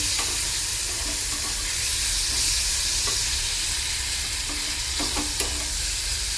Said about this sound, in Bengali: এবারে এর মধ্যে রসুন বাটা আর আদা বাটাটা দিয়ে দেবো, দিয়ে ভাজবো।